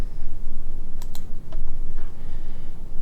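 Computer mouse clicks on a firmware download link, a few sharp, faint clicks spaced apart over a quiet, low hum.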